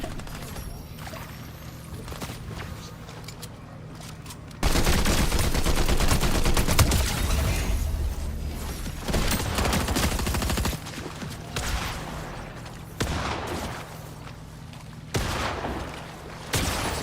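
Fortnite gunfire comes in dense, loud bursts of rapid shots, with a quieter stretch first and then several sharp volleys separated by short pauses.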